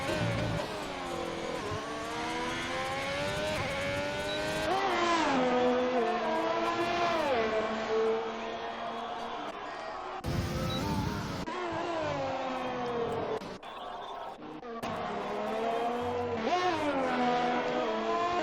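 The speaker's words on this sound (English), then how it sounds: "we'll continue to watch the cars go around the circuit" Race cars from a racing video game lap a wet circuit in Austria, engines revving and rising in pitch as they accelerate and pass, with gear shifts and loud drones close by that drop away briefly before returning.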